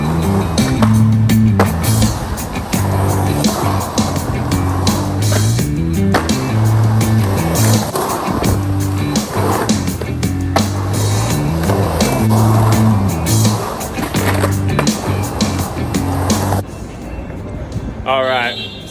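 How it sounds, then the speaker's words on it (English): Skateboard wheels roll loudly and continuously across a concrete skatepark, with rhythmic rumbling passes and grinding scrapes along the smooth safety wall, ending as the board quiets and a voice speaks. "we're gonna see if I can get frontside grind"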